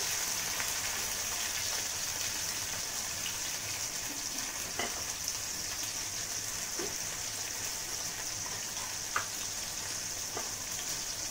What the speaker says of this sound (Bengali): টমেটোটা ভেজে নিচ্ছি আমি।